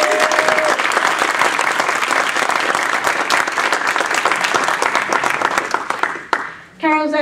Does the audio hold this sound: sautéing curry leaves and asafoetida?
no